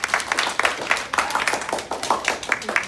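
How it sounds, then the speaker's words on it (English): An audience gives a big round of applause during a demonstration, with loud, dense clapping sustained throughout the few seconds and no speech over it. "Everybody give him a big round of applause."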